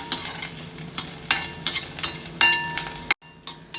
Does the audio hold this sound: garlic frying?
yes